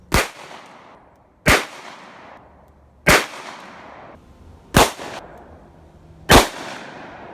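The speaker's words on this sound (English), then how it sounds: "So we'll shoot 3 44 Special cowboy loads and then 2 Honey Badgers." Five loud revolver shots from a Gemini Customs Ruger .44 Magnum ring out one by one about a second and a half apart, each a sharp crack with a short decaying echo: three .44 Special cowboy loads, then two Honey Badger rounds.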